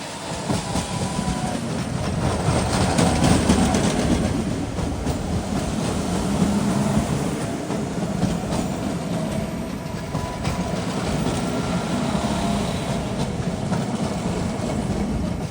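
PATCO train 135 arrives at Lindenwold station with a loud, steady rumble of rolling railcars and a rhythmic clickety-clack of wheels over rail joints, close by and continuous throughout, no voices.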